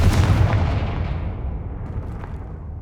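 Confringo blasting spell explosions in the Hogwarts Legacy game: a loud, dense rumbling blast that fills the clip with heavy low booms and crackle, slowly fading over about three seconds with no voices.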